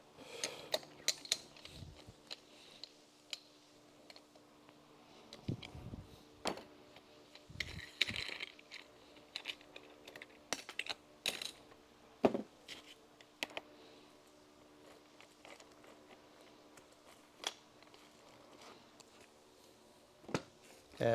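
A cutting wheel is removed from an angle grinder and a wire wheel fitted, scattered faint clicks, clacks and ratcheting taps of metal parts and tools spread across a quiet background.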